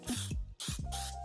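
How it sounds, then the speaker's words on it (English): Cooking spray hisses from an aerosol can onto a baking dish in three quick bursts, each a broad, loud spritz with short gaps between, and no one talking. "lightly spray a baking dish with cooking spray."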